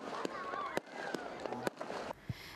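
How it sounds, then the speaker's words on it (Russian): Festive fireworks bursting at an evening celebration, several sharp cracks and pops scattered over a steady crowd murmur. "Не обошелся вечер и без праздничного фейерверка."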